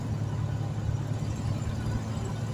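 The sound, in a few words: 1981 Valiant Volare car driving on the highway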